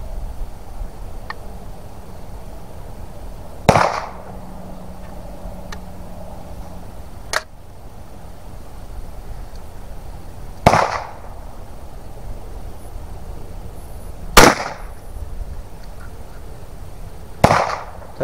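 A Yildiz TK12 single-shot 12 gauge shotgun fitted with a bore adapter fires 40 S&W rounds outdoors, four sharp isolated reports spaced several seconds apart, with quiet ambience between shots.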